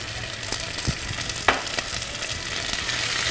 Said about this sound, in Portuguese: quando a sua cebola começar a ficar mais douradinha, já pode colocar o alho